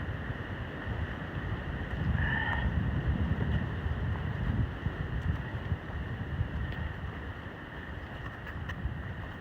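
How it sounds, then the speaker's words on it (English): Wind blows steadily on a mountain trail near Dicks Creek Gap, a constant loud rush with low-pitched buffeting and rumble against the microphone that stays strong throughout, with no one talking. "You hear the wind, and we're shielded right now."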